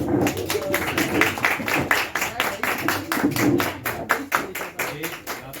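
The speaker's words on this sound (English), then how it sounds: "Please give them a round of applause." A classroom of students in an English lesson applauds the winning group, with steady, dense clapping running throughout and voices mixed in.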